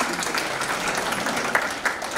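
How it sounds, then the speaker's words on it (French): Audience applause at a Journée Internationale de la Francophonie gathering: steady, dense clapping from a crowd throughout, fairly close and loud, with no words spoken. "on peut l'applaudir peut-être"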